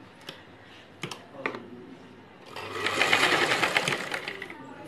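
A sewing machine stitching a saree edge: a few separate clicks and short bursts at first, then a longer stretch of fast, rattling stitching close by, with no talk.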